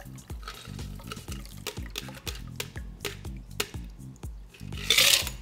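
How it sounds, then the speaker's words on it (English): An Aviation cocktail poured from a shaker tin through a fine strainer gives a run of close trickles, drips and light clinks over soft background music, ending in a brief louder splash. "pour through the fine strainer"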